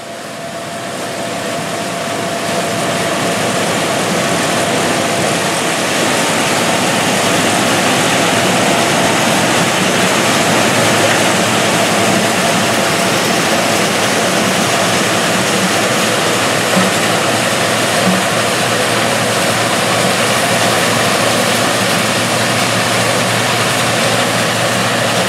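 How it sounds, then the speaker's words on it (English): An International 856 tractor fitted with a 234 corn picker and sheller runs steadily in a harvest field, a loud, constant broadband engine and machinery roar that swells in over the first seconds and holds close for the rest. "Here we can see an 856 tractor equipped with an International 234 corn picker and sheller attachment."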